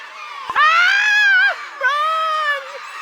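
Screaming from a cartoonish video-game story scene: two long, high, wavering shrieks, loud and close, the first cut off abruptly and a second, lower cry following after a short pause.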